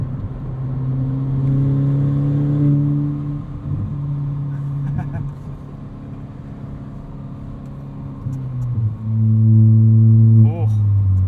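Straight-piped 2017 Ford Fiesta ST engine droning steadily at highway cruise around 3,000 RPM, a loud low hum with a swell in revs near the end, under someone talking.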